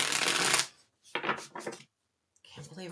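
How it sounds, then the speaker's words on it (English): Tarot cards are shuffled by hand in several quick bursts of papery riffling and rustling separated by short pauses, close and moderately loud. "Let's do a couple more shuffles."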